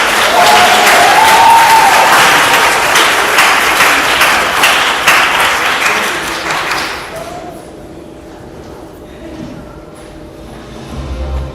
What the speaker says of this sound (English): Would you clap for us?